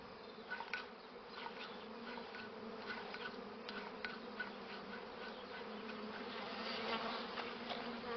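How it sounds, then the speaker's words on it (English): Honeybees buzzing in a dense, steady swarm hum that holds evenly throughout, close and continuous with no other sounds. "We've learned to control honeybees using smoke to calm them, subdue them, making them docile and less likely to sting."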